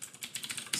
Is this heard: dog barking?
no